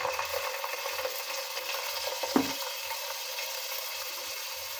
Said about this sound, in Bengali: এবার এই তেলের মধ্যে আমি এক এক মশলা দিয়ে দেবো। দিয়ে দিচ্ছি জিরে বাটা